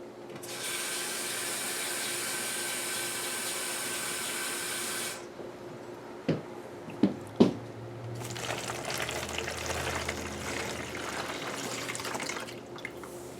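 About a cup of water is poured into a sugar mixture for a homemade mosquito trap, a steady close splashing stream for several seconds, then a few sharp clunks and softer rustling.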